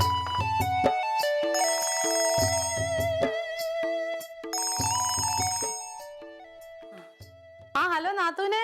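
An electronic phone ringtone plays a busy, bright melody of chiming tones for several seconds, fairly close, with a wobbling warbled section near the end.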